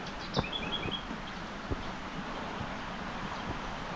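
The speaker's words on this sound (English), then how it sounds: "You can hear all the birds." A few faint, high bird chirps sound in the distance over gusty outdoor wind and rustling on a narrow trail at Lesmurdie Falls near Perth, with occasional soft knocks nearby.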